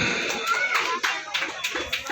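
An audience at the inauguration of a village drama stage claps in a steady burst of applause that carries through to the end, mixed with crowd murmur and a few voices.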